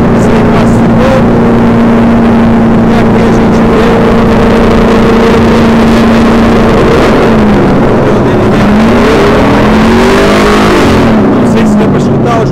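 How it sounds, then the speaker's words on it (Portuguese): Loud, constant engine roar from several NASCAR race cars at Las Vegas, with a pitch that rises and falls as they pass at close range. "Não sei se deu para escutar os motores."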